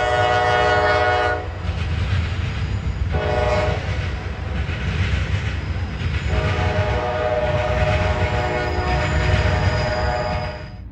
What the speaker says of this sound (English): NS 4249 leads a rail train